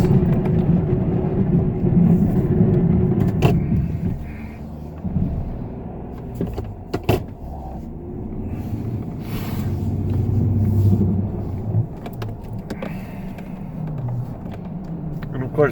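A truck with a straight blade plows snow across a large lot, its engine rumbling low and steady with surges and scraping bumps, while someone talks over it.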